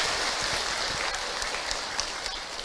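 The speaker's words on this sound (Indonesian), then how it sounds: "Tepuk tangan buat bunda yang ada di sini." Sustained applause from a live audience of mothers at an Islamic preaching event in Indonesia, a steady dense wash of clapping that runs evenly throughout.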